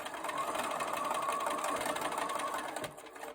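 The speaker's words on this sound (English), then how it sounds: "I'm ready to stitch." Sewing machine stitching quilt squares cut from precut fabric, a steady, fast mechanical whirring hum running continuously up close, then cutting off abruptly at the end, with no talking.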